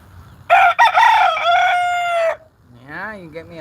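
A rooster crows loudly and close by in one long call, followed by a softer, lower bird or animal call.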